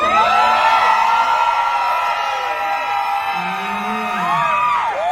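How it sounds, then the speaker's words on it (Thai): An audience at a concert for a young boy singer screams, whoops and cheers loudly in a sustained burst of high-pitched shrieks and yells from a large crowd. "เดี๋ยวให้ท่าน กรี๊ดให้เป็นกำลังใจให้กับน้องให้รู้ก่อนว่าน้องจะออกแล้ว"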